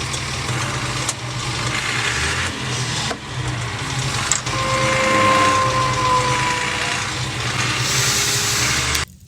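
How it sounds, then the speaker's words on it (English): A David Brown tractor engine drones steadily while driving on a road with traffic, a low rumbling throb with a few clunks and a faint whine, no talking. "This is the nervy bit now, because I'm not used to this tractor and there's quite a bit of traffic about."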